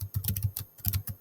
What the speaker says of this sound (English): I'm just going to type in attendance and hit search